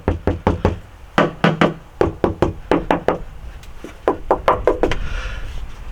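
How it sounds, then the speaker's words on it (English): Knuckles rap repeatedly on a C5 Corvette floor panel lined with Dynamat sound deadener, giving sharp, close, dull knocks in quick irregular bursts that trail off near the end. "it does seem to be cutting down on the vibration of the panel quite a bit, even just knocking on it"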